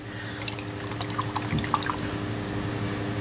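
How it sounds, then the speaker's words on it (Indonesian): A small bottle of white jasmine essence liquid is shaken briefly, giving quick sloshing and light drip-like clicks close by. "Nih kita kocok yang melati putih nih."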